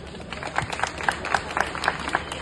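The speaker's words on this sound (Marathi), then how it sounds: "जोरदार टाळ्या" An audience at a Ganesh festival mandal program claps together, producing quick, fairly even bursts of hand claps that sound close and lively, with no speech over them.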